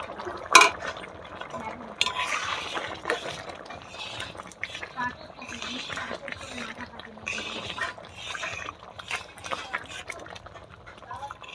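Rice and lentil khichdi made with mung and masoor dal, stirred in a pot in a village kitchen: close, uneven scraping and clinking of a spoon against the metal, with wet sloshing and a sharp knock near the start.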